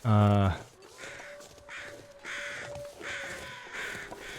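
Crows in The Long Dark caw repeatedly at a cliff in harsh, evenly spaced calls, heard moderately near over a faint wind hum after a brief loud tone at the start.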